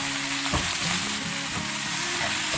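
Noodles fry in a pan with a spoon of soy sauce and a spoon of vinegar, giving a steady, close sizzle with a few stirring scrapes, and no voices.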